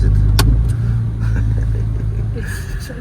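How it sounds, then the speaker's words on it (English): A car pulling away as the accelerator is pressed and the handbrake released during a driving test in Oman, with a loud, close engine rumble sustained throughout and voices talking over it. "Press the accelerator and release the handbrake."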